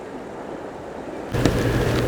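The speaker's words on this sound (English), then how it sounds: "Water's running pretty swiftly. And this is the Colorado River, the famous Colorado River." Swift water of the Colorado River rushing past, a steady broadband roar that swells noticeably louder partway through, with no voices over it.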